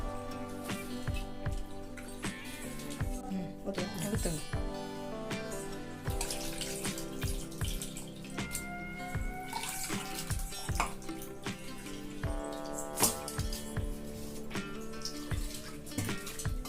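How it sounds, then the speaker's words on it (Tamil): Soaked tamarind being squeezed and dissolved by hand in a bowl of water, giving close splashing, squelching and dripping sounds that continue irregularly throughout. "இப்போ புளியை நல்லா கரைச்சி விட்டுக்கலாங்க"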